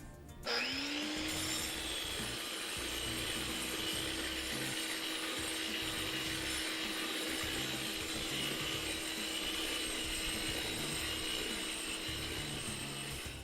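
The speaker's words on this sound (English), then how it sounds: "we're going to go ahead and grind the surface" A power grinder spins up and grinds across a surface patched with fast-setting crack filler, holding a loud, steady whine with a harsh abrasive rasp for the whole stretch.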